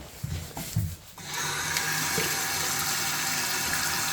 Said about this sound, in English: And the hot water's coming through now,